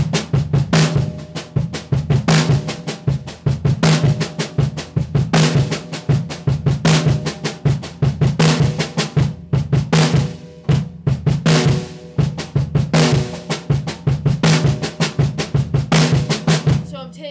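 Drum kit paradiddle groove played by the bass drum and left hand alone, a steady rhythmic pattern of alternating kick thumps and snare strokes, loud and close throughout with no talking.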